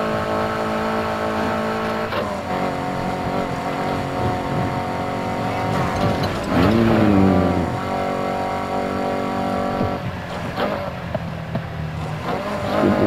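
A BMW engine revs and roars steadily in Need for Speed Heat, loud and close, with pitch rising and falling through gear changes and a brief tire squeal midway, no talk.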